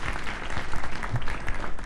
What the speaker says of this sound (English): you can clap for the audience that has just joined us